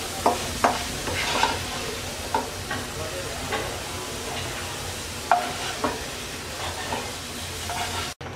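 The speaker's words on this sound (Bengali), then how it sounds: "আলু ভেজে নেওয়া হয়ে গেছে, এবার তুলে নিচ্ছি" Fried potatoes being lifted out of a pan of oil, a soft continuous sizzle with repeated spatula scrapes and taps at irregular intervals.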